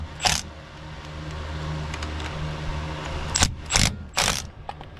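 A ratchet socket wrench on the front brake bolts of a Toyota Tacoma: several short, bright ratcheting bursts, one near the start and a cluster of three toward the end, close up over a low steady hum.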